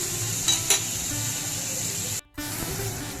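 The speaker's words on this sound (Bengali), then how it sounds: "পনিরটা হালকা ভেজে নিলাম বন্ধুরা, তোমরা দেখো।" Paneer cubes lightly frying in a pan give a steady close sizzle and hiss, broken by a couple of brief stirring scrapes and a short drop-out near the end.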